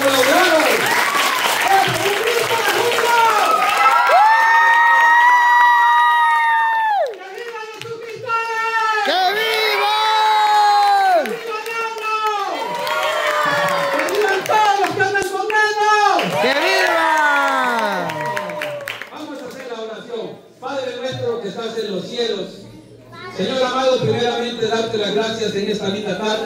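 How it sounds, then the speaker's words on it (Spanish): A crowd of children applauds and cheers for subscribers, loud and lively, with tonal singing or chanting voices riding over the clapping and occasional shouts throughout. "hoy quiero que me regale un fuerte aplauso para los suscriptores que colaboraron"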